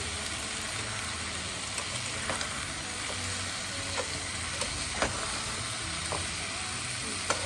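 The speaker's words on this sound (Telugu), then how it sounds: "కొద్దిసేపు తర్వాత ఇక తిప్పుకొని చూసుకుంటా ఫ్రై చేసుకోవాలి" Chicken pieces for tandoori chicken tikka masala sizzle steadily in a hot pan, with soft scraping clicks at irregular intervals as they are stirred and turned. The frying is continuous and moderately quiet, and no one talks.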